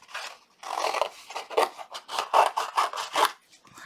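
Scissors cut through paper card in a crafting session, giving a quick series of crisp snipping strokes, close and clear, with short pauses between cuts.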